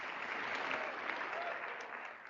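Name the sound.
applause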